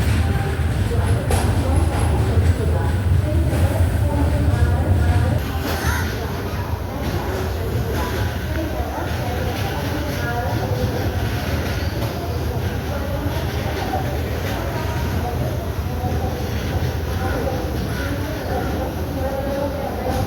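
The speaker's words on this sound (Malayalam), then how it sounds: "ട്രെയിൻ ഇപ്പോൾ തിരുവനന്തപുരത്ത് നിന്ന് എടുത്തു." The Pune–Kanniyakumari Express pulls out of Thiruvananthapuram, its rolling rumble heard from aboard, louder at first, then settling into a steady clatter with a faint murmur of voices in the carriage.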